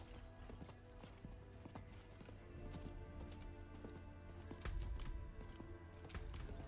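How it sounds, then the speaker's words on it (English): Horse hooves clip-clopping steadily in a town within the Diablo IV video game, a quiet continuous rhythmic patter under game ambience with no talk. "Please remove the speed limit on the horse in town."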